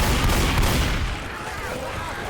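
Rapid gunfire in the zombie co-op shooter Left 4 Dead 2, a dense, continuous volley of overlapping shots that stays loud throughout the short burst.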